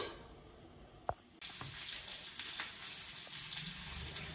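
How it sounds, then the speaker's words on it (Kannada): Onion and green chillies spit and sizzle in hot oil during a tempering, a steady frying hiss that jumps louder after a sharp clink, continuing close and even with occasional pops. "ಒಗ್ಗರಣೆ ಕಾರ್ಯದಲ್ಲಿ ಬ್ಯುಸಿಯಾಗಿರುವ ಮೇಘನ."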